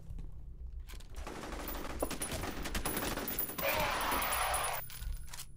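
An automatic turret in F.E.A.R. fires, producing sustained rapid gunfire bursts with metallic clinks, loud and near, swelling into a denser burst midway before stopping.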